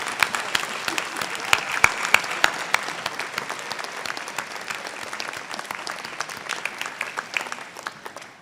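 Audience applause at an alumni ceremony for graduating classes, a sustained patter of many hands with some sharp nearby claps, fairly soft and continuous without talk.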